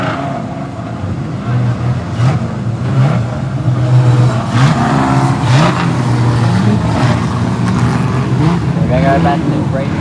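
Street stock race cars roar around Mid-Western Speedway in Darlington, engines droning and revving loudly under a continuous commentator's voice.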